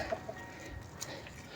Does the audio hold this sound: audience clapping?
no